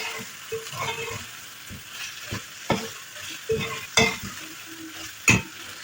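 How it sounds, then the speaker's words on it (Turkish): Tomato paste and a spoonful of flour sautéing in a pan for a Turkish boiled bean dish, a steady close sizzle broken by several sharp scrapes and clinks of a spoon stirring against the pan. "salçamızın kokusu çıkıncaya kadar kavurma işlemine devam edelim"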